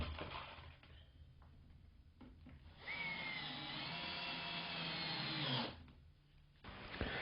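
A power drill driving screws into the wood of a workbench build: short whirring bursts, then one sustained high drill run of a few seconds that winds down, fairly close in a quiet room.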